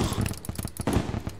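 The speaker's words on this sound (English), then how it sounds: "Fireworks." Fireworks going off in Terraria, a rapid crackling burst of pops and bangs that runs steadily through the moment, with a voice briefly audible underneath.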